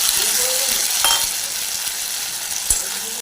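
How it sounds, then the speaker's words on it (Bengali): Pointed gourd and potato frying with spice masala in a pan, a loud steady sizzle right at the pan with a couple of brief utensil knocks. "মশলাটা দিয়ে হালকা ভাজা করে নিতে হবে, যাতে মশলার কাঁচা গন্ধ না বেরোয়।"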